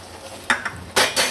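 Milk poured into a hot pan of Gujarati adadiya mixture, giving two short, loud hissing splutters close by, preceded by a couple of brief clinks of a utensil against the pan.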